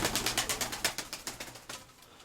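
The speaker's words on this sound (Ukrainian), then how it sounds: "Оце білий голуб такий" A white pigeon coos close by in a quick, steady run of soft pulsing calls, alone with no talk.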